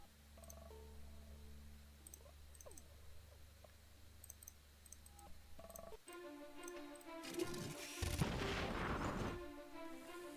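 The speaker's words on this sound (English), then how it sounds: "Hit him with a tank cannon." A tank cannon fires in the Battle Nations strategy game after scattered interface clicks, then a loud booming blast swells and rumbles for a couple of seconds.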